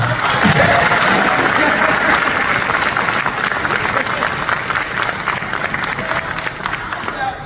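A crowd applauds loudly and continuously at a Power Rangers Lightspeed Rescue 25th anniversary event, dense clapping that gradually eases off toward the end.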